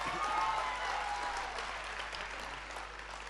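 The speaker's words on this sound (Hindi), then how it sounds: "ताली बजाइए।" A crowd at a Hindi comedy poetry gathering, the Hasya Kavi Sammelan at Jalore Mahotsav 2020, claps in a dense, steady wash of applause that fades slightly over a few seconds.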